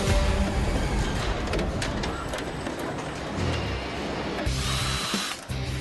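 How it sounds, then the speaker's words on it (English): Power drill whirring in bursts on Jaguar XJ car door assemblies at an automotive plant, with continuous loud factory clatter and machinery around it. "This team makes using a drill look like spreading butter."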